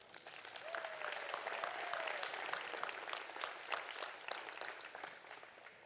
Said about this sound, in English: Let's give everyone in this arena a round of applause